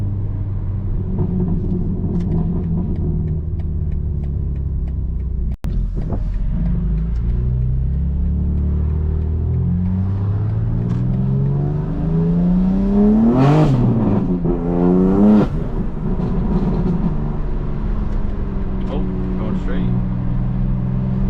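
A BMW G82 M4 with a custom E-Tune making about 750 horsepower revs up close and loud, its engine note climbing and falling through sweeping pitch changes over a steady low rumble.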